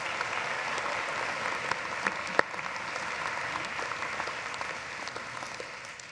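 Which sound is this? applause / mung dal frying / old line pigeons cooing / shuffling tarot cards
applause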